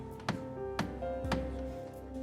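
Loose ceiling plaster in a church nave tapped three times, each a short, hollow knock spaced about half a second apart over a steady low background hum.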